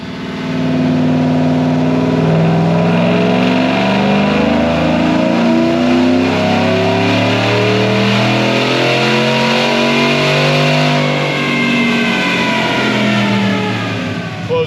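A supercharged 5.3-litre Chevrolet Silverado V8 revs hard on a dyno, the loud engine note climbing steadily in pitch through a long sustained pull and holding near the top before easing slightly at the end.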